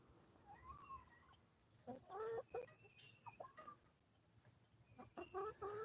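A large, fast-grown rooster with dark red and teal feathers clucks in several short bursts of rising and falling calls, fairly close and clear, with quiet pauses between them and no talking.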